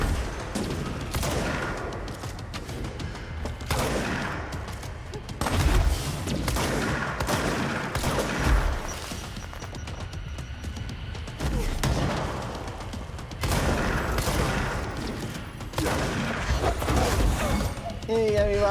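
Sniper fire in the video game Control. Repeated loud cracks and booming bursts come every couple of seconds over a busy combat din, with a voice talking in places.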